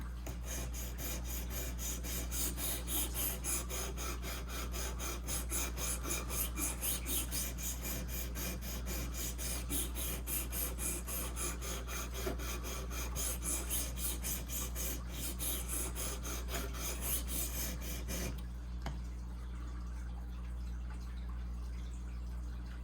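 A traditional pocket knife is sharpened on a Worksharp Precision Pro, with steady, repeated rasping strokes of blade on abrasive over a constant low hum, continuing for most of the span before quieting near the end.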